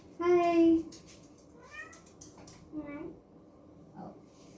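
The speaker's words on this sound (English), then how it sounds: "I have this big vulgar orange cat." A big orange cat lets out a loud, drawn-out meow close by, followed by a few shorter, softer meows, while a person talks quietly in between.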